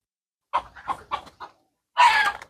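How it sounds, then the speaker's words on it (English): Chickens fighting, with a burst of agitated clucks and squawks followed by a louder, harsher flurry of noise, close by and with no talk. "Fighting the chickens."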